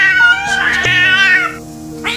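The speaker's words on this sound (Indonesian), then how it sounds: "Saat itu Eong terus mengeong dengan keras seolah ngasih tahu kalau si Su'a itu udah kabur" A cat meowing loudly in one long, drawn-out, wailing cry that rises and bends before trailing off, close and clear with no other sounds around it.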